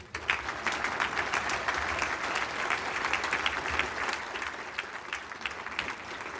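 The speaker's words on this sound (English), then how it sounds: "let's give him another round of applause" Sustained applause from a luncheon audience at an Armed Forces Day event, dense and steady clapping filling the room for several seconds at close range.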